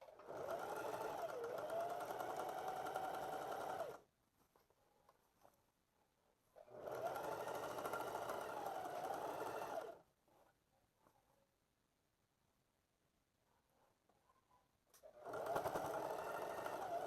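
A domestic sewing machine stitches along the folded hem of elastic-waist shorts in three steady, fast whirring runs separated by quiet pauses, close and clear.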